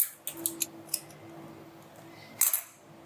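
Scissors snip through Spanish moss, with a few light metallic clicks early on and one sharper, louder cut near the end, all close and quiet against a soft background hum.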